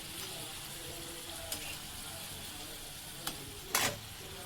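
Potato papad frying in hot oil, a steady soft sizzle throughout with a few brief clinks and scrapes near the end, no voices.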